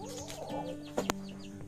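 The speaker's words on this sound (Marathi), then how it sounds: "मजबूत मोठा कोंबडा आहे." A big, strong rooster gives a few short clucks at close range, with a couple of sharper notes near the middle of the brief stretch.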